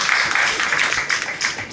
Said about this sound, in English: An applause for us.